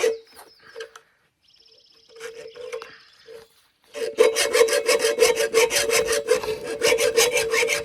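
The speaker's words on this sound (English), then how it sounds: "So I just am going to attempt to do one of these with the hacksaw" A hacksaw cuts through material for a remote Alaska garden build, first a few hesitant scrapes, then a steady fast rhythm of back-and-forth rasping strokes, close and fairly loud.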